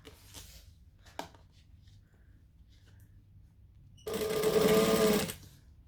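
Sewing machine stitching piping cord on a long stitch length, a loud, steady whirring run of about a second and a half after some quiet handling sounds.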